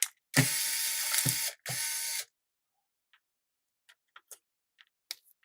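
Electric screwdriver removing screws from a Neo Geo AES console, two loud whirring bursts close up, then quiet with scattered small clicks and taps of handling, no talking.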